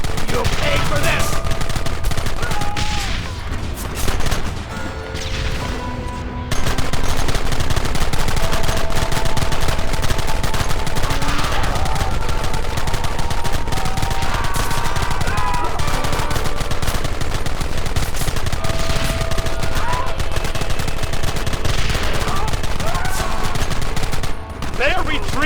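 Sustained gunfire from a Red Dead Redemption shootout: rapid overlapping shots and bursts crackle almost continuously for the whole stretch, with shouted voices cutting through the fighting.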